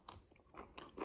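Teeth bite and crunch into thick Torbet mango skin several times in a second, close-up moist chewing crunches.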